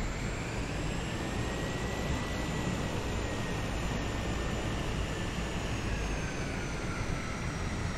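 An airplane taxis out toward the runway, its engine a steady, loud, unbroken drone with a faint high whine riding above it throughout.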